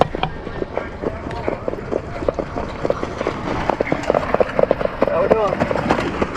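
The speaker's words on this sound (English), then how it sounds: "These horses are really pretty." Horses run on a Kentucky farm, their hooves clip-clopping in a rapid, irregular patter that builds in loudness, while people talk over the sound.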